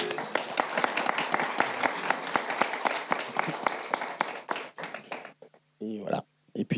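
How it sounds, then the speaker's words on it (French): Audience applause follows a conference talk: a crowd claps in sharp, dense bursts that thin out into a few scattered claps, then someone begins talking as it dies away. "Moi, je pense que ça mérite des applaudissements."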